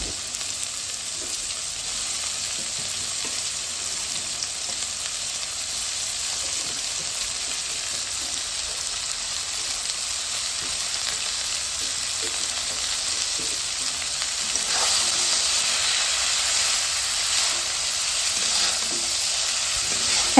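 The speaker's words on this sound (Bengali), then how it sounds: "এই পর্যায়ে দিয়ে দেব কেটে রাখা পাতাকপি।" Chopped cabbage fries in a spiced pan with an even, steady sizzle that runs without a break, swelling slightly louder toward the end and with no talking.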